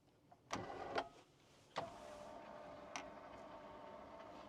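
An electric mechanism in a four-person camper raises the bed by itself with a quiet motor whine, punctuated by a few sharp clicks and knocks, close and faint.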